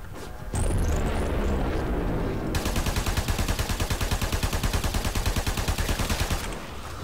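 Braton Prime rifle in Warframe fires a long sustained burst of rapid, evenly spaced shots emptying a full magazine, loud and close, with no talk over it.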